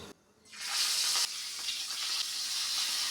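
Fish hits hot, smoking mustard oil and bursts into a loud, close sizzle that rises sharply after a brief quiet start and keeps crackling steadily, with no talk.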